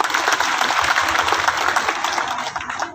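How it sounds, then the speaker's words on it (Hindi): Loud applause from a crowd welcoming a speaker at a political gathering, a dense continuous clatter of many hands that starts to thin slightly at the end. "इनकी जोरदार तालियों से आप एक बार स्वागत कर दें।"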